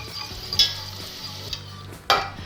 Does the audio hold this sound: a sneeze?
no